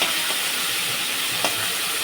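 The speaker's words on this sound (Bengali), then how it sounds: "চিংড়ি মাছগুলোও আমি ভাজতে বসিয়ে দিয়েছি দেখো নিয়ে চেড়ে ভালো করে হালকা করে ভেজে নেবো মাছগুলো" Prawns fry in a pan with a steady, dense sizzling hiss and a couple of soft stirring knocks.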